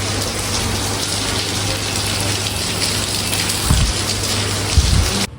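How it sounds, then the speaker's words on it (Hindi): Heavy rain pouring down outside a hotel in Naran, Pakistan, a loud, constant hiss of water with a steady low hum beneath and a couple of brief thumps near the end. "अभी बारिश तो बहुत हो रही है।"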